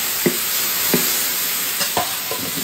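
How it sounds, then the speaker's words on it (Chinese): Eggplant stir-fried in a wok for a rural home-style dish, a steady sizzle broken by a few sharp scrapes of the spatula against the metal, close and alone with no voices. "茄子炒一下"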